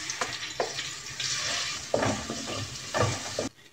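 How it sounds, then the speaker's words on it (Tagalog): Garlic sizzles in hot cooking oil as it is stirred in a pan, a continuous close frying hiss broken by scraping stir strokes, then cut off abruptly. "Ayun naman ang panggigisa natin sa ating lulutuin. ilagay na natin yung ating bawang."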